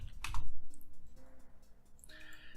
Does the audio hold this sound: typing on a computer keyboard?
yes